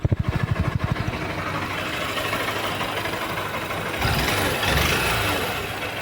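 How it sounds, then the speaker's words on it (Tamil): A Honda SP160 motorcycle idles with a steady, close exhaust putter, opening with a few distinct low pulses, then a continuous rumble that swells slightly near the end, with no talking. "எக்ஸாஸ்ட் சவுண்ட் இப்போ நோட் பண்ணுங்கள்"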